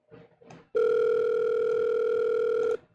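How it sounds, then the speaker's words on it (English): A phone call rings out as a single long, steady electronic tone lasting about two seconds, clear and close, following a couple of short faint sounds. "Okay, chat, it's ringing."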